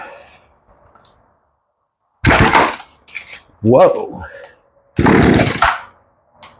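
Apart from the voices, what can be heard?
Poulan chainsaw engine starting after carburetor replacement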